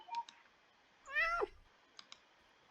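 A cat in the Roblox video game gives a single clear meow midway, set among a few sparse soft clicks in an otherwise quiet scene.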